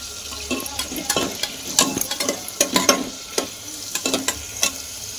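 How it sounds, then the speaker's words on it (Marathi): Washed potatoes are sautéed in a pan for a sabudana khichdi, with a close, crackling sizzle broken by repeated stirring scrapes and clatters, and no talking. "त्याला चांगलं परतून घेऊ."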